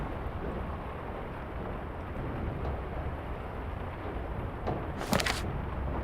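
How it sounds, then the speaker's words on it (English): Thunderstorm in the video game The Lion's Song, with howling wind and rain: a steady, moderately quiet wash of rain and wind noise with a low rumble underneath and a brief brighter crack near the end. "In the valley, the storm rages. With all this howling wind and thundering rain, how can I concentrate?"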